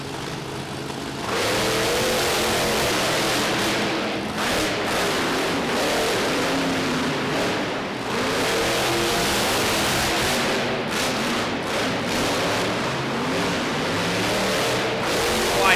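Monster trucks race on a short Chicago-style dirt track at the Toughest Monster Truck Tour in Youngstown, Ohio, their engines roaring and revving loudly and continuously, with surging throttle swells throughout.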